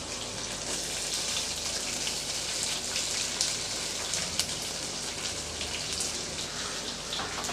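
Green chillies and sliced onions sauté in a pan for potato poori masala, giving a soft, steady sizzling hiss with light crackles throughout, quiet and without speech.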